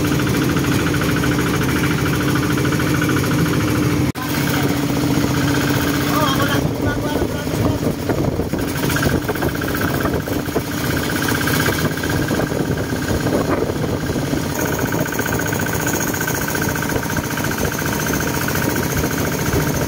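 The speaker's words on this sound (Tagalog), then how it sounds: "Tractor lang na maliit yung makina." A small tractor engine runs loudly and steadily nearby, a rough continuous chugging rumble throughout, with voices occasionally under the noise.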